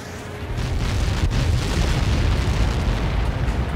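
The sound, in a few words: explosion in the video game Ace Combat 7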